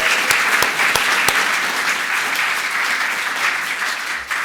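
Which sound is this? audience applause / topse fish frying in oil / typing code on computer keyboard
audience applause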